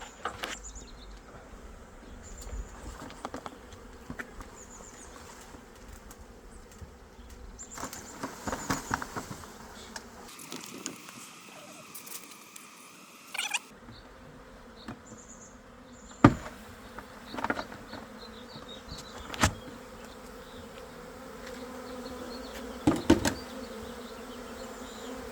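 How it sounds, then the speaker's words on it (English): A swarm of honey bees is dumped in front of a hive, and the bees keep up a continuous close buzzing. Louder passes and scattered handling knocks rise above the drone, which briefly quiets partway through. "dump the bees in front of it, so then they get a better communication with other bees"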